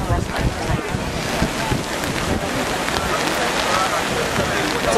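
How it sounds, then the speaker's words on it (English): Strong wind in a city snowstorm buffets the microphone with loud, rough, gusting rumble and hiss that stays dense throughout, with no voices. "It's also very windy."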